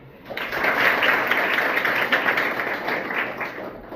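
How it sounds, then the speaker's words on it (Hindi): A crowd at a school function in Mokalpur, Mariyahu, Jaunpur claps together in a sudden dense burst that swells quickly and stays steady for about three seconds before easing slightly. "एक बार ताली बजा लीजिए"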